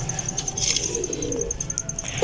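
Pigeons at a home loft making soft, low cooing calls against a faint background with a steady high whine and a few light clicks.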